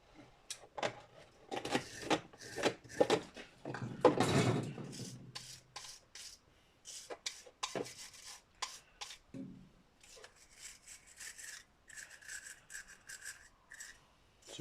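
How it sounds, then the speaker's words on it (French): A wire brush scrubs rust on a Bernard W110 engine in short, close rasping bursts with brief pauses, heaviest in a dense stretch near the middle and lighter scratching toward the end. "même à la brosse métallique ça sort même pas en fait"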